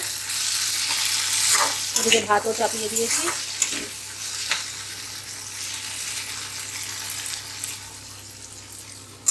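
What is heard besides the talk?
okra frying in a pan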